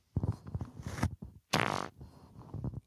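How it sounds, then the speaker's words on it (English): A fart breaks out mid-sentence, a sustained buzzing burst of about a third of a second, loud and close, with someone talking before and after it. "Oh my God, I have to fart again."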